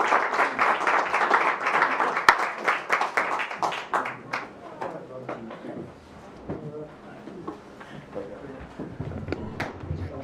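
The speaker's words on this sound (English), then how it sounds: "Let's give them another round of applause." Clapping from people at a county fiscal court meeting, loud and dense at first, then thinning into scattered individual claps that fade away, with some talk in the room.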